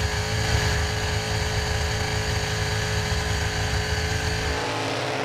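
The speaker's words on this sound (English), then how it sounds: "427 small block Chev. Just listen to her wring its neck." A 427 small block Chevrolet engine, over 1,000 horsepower, revs hard through a burnout at a Summernats burnout competition, a steady, loud, gritty roar held at high revs for the whole stretch with no voices.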